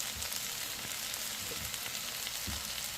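Ginger, a heaping teaspoon, goes into hot oil for Filipino chicken lumpia and fries with a steady, even sizzle, with soft low thumps of stirring or handling underneath.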